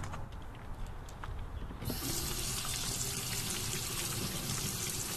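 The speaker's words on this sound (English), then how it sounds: "I'm actually gonna have to wash your hands as well" Tap water running into a sink during handwashing, starting partway through as a sudden loud, steady rush that continues to the end, close by and without speech.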